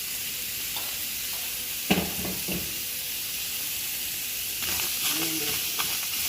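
Onions stirred in a dry pan with no oil, giving a soft steady sizzle and hiss with a few scraping stir strokes, moderately close and with no voices.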